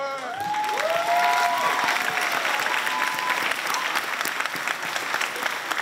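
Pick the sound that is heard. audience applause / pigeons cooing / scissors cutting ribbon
audience applause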